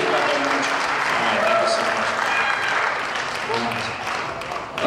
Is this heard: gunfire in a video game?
no